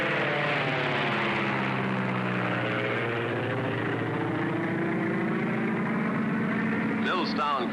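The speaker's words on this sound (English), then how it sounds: "Taking the night plane, sir." A night plane's airplane engine drones steadily and close, a continuous low hum with a rough rumble that holds level throughout, while a brief voice-like flutter appears near the end.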